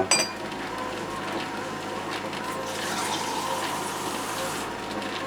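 Tap water running steadily to rinse a glass after using an Optimum 600 blender, a constant near gushing hiss with a faint low hum underneath.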